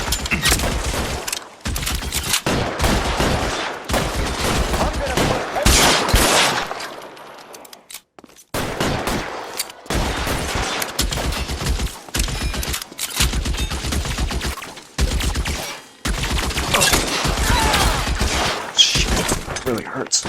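Gunfire in a shootout in the video game L.A. Noire: dense, loud bursts of shots and rapid volleys fill most of the stretch, broken by one brief lull, with a voice occasionally heard beneath.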